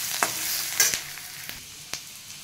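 Onions fry in oil in a hot kadhai, a soft steady sizzle punctuated by several sharp spatula taps and scrapes against the pan, close up and without any talking.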